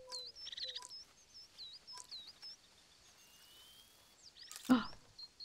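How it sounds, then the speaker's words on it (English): Birds in the wildlife game Alba: A Wildlife Adventure give sharp, high chirps and whistles in scattered bursts, capped by one loud, close call near the end amid a quiet outdoor ambience. "That was a very loud bird sound."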